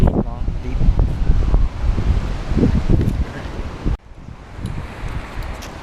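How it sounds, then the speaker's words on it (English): Strong gusts batter the microphone on a sandy beach, blustery and uneven with loud buffeting rumbles, and a voice speaks briefly beneath the wind. "It's a very windy place right now."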